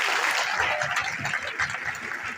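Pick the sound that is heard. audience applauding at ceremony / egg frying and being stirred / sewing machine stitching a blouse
audience applauding at ceremony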